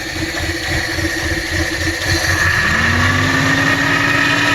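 A 1986 Subaru car engine runs steadily up close, a loud even rumble that rises slightly in pitch partway through as it picks up speed.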